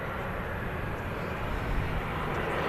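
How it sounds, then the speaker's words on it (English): An Airbus A320 of EasyJet landing at Manchester Airport, its touchdown carried in a steady, loud broadband engine and airflow roar that holds without a break. "silky, smooth touchdown on the A320"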